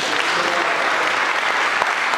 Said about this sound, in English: Give God a hand clap praise.